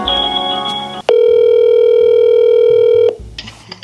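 A telephone call being placed: a loud, steady dial tone holds alone for about two seconds, preceded by other tones and followed by faint background noise.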